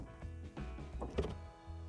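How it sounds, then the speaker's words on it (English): A BMW 8 Series E31's self-opening frameless power window hums briefly as it moves with the door, mixed with soft clicks and a light thunk, quiet and close. "these self-opening windows whenever you open and close the door"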